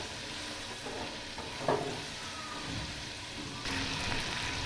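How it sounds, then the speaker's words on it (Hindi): Garlic ginger paste frying in a pan with browned onions, a steady dense sizzle with stirring scrapes and a brief clatter, close up, without speech. "इसमें जाएगा लहसुन अदरक का पेस्ट, इसको थोड़ी देर के लिए भूनेंगे।"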